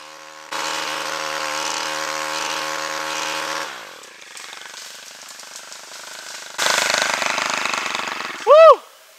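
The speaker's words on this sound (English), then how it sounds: "Big chainsaw." A loud motor roars steadily for a few seconds, cuts to a low idle, then revs up again, ending with a brief high-pitched whine.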